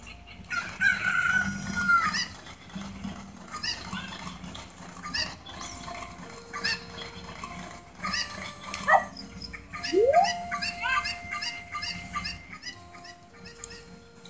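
Chickens in Zelda: Ocarina of Time cluck and squawk in short repeated bursts, with a rising cry standing out, all over a calm, steady game music backdrop.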